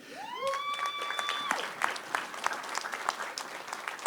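A crowd at a school board meeting honoring a livestock show turkey winner claps in steady, moderately loud applause, with a brief voice and whistle-like tones at the start.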